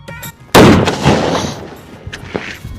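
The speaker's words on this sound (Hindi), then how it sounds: "अब देख बेटा मोर फटाका ला सीधा दिल्ली मोदी तक आवाज पहुंची।" A single sharp, loud firecracker bang cracks out close by, then rings and decays into rumbling echoes.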